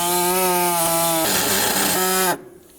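Cutting parts during a knock sensor replacement on a 2003-2009 Toyota 4Runner: a steady, loud, high-pitched whining saw cut runs near and continuous for about two seconds, changes tone as it bites through, then stops abruptly.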